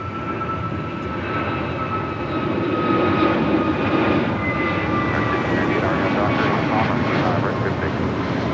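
A Southwest Airlines Boeing 737-700 arriving from Phoenix at Los Angeles International Airport, its engines a broad rumbling roar that swells louder as it passes close, with a commentator talking over it.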